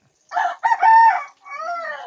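A rooster crows loudly and close by among chickens at an outdoor forest cooking spot near sunset, a long rising-and-falling call followed by a second shorter crow.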